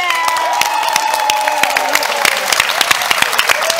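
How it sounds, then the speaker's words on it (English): Audience applause at a YMCA World Council show, loud close clapping from a crowd with scattered cheers and whoops layered over the steady patter. "while we're rolling that applause"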